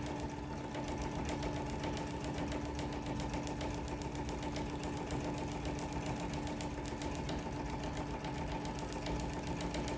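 Home sewing machine quilting along a curve, running at a steady unbroken drone with a fast mechanical hum and faint clatter throughout, close and even in level, no pauses and no voices.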